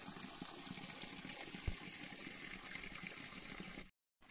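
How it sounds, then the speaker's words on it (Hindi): Water from a village spring pours steadily in a continuous broadband rush, close and fairly loud, with one brief thump midway before the sound cuts off near the end. "ये है पानी का धारा"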